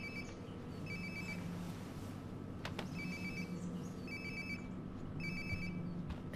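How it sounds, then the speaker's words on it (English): Mobile phone ringtone in Life Is Strange: Before The Storm, a faint repeating electronic ring in short regular bursts over a steady background hum. "Sounds like my phone is definitely nearby."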